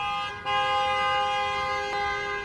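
Deafening car horn blast held steady, a loud sustained multi-tone honk with strong harmonics that sounds alone without any voices.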